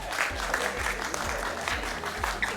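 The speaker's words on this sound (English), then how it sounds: "Give her a round of applause." A small crowd claps briefly, a short burst of applause with loose, uneven hand claps at moderate volume.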